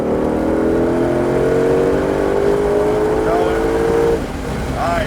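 A Ford Shelby GT500 Mustang accelerates hard down a track-day back straightaway, its loud engine drone climbing steadily in pitch for about four seconds before a brief dip as it shifts, heard from inside the car.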